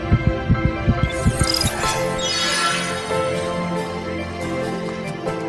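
A heartbeat sound effect of rapid, deep thumps pulses quickly for about a second and a half, then gives way to a sweeping whoosh and a low, sustained hum.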